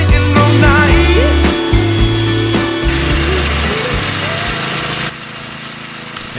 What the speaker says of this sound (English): I wasn't expecting a heck of a lot out of the cylinder mower, but it actually, as you can see, turned out pretty good